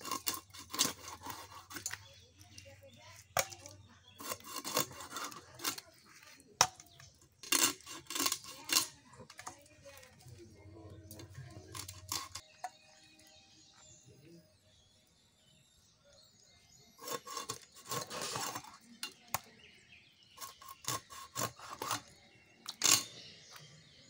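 Silver carp is scaled and cut up by hand in a kitchen, sharp scraping and crunching strokes in irregular close bursts separated by quiet pauses, with a low hum running through the first half.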